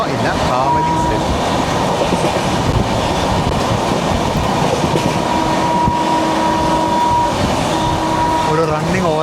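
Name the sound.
Howrah Bangalore Duronto Express train running through Kavali station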